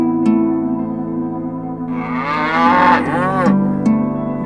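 A cartoon cow moos in a long, loud, drawn-out call that rises and bends in pitch, heard alone over a steady background music bed.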